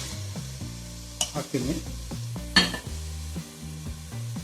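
Mutton sambar ingredients get stirred in a pan, a spoon scraping and clattering in uneven strokes over a constant sizzle, with a louder scrape midway and a brief spoken word.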